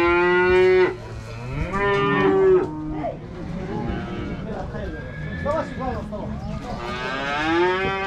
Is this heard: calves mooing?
yes